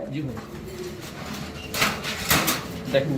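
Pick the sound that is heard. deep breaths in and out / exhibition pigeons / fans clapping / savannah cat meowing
exhibition pigeons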